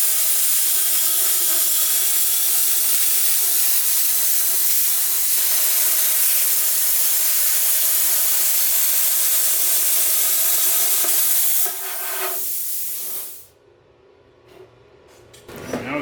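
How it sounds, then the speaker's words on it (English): Plasma cutter burning an exhaust hole on a turbo K24-swapped Nissan Cefiro, a loud steady hissing roar of cutting that runs unbroken for about twelve seconds, then cuts off abruptly into quiet workshop sounds. "we can try to plasma cut just right real tight on the inside"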